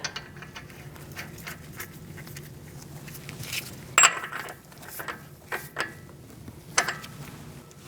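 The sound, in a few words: putting axle nut on Toyota Camry brake assembly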